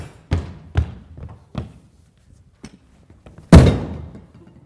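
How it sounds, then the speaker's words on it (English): Heavy footsteps stomp across a room indoors, several loud separate thuds spaced unevenly and ending in one especially forceful impact, with quiet gaps between them. "And then he stomps over."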